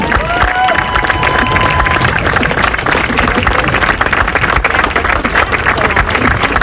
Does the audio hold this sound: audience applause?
yes